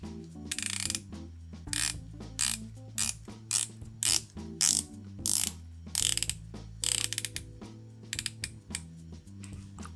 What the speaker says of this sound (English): Let's listen to the bezel action.